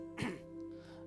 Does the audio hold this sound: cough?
yes